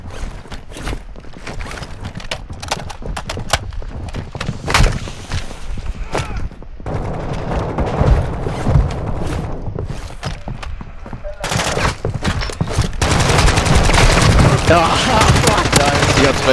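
Rapid gunfire bursts and single shots in a Call of Duty Warzone DMZ match in Al Mazrah, loud and dense, with footsteps, thuds and players talking over the shooting.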